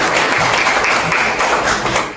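A university class in Indonesia applauds a classmate with a brief, dense burst of clapping that fills the room evenly and loudly.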